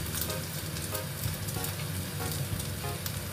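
Tofu frying in a pan for tahu tek, a Surabaya dish: a continuous soft sizzle and crackle of hot oil, close and steady throughout, with no voices.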